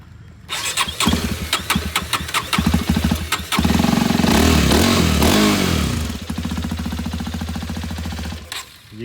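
A Hero Xpulse 210 motorcycle with a starting problem is cranked with a whirring starter several times, then the engine catches and revs loudly for a few seconds before settling into a rough, uneven idle, heard close up.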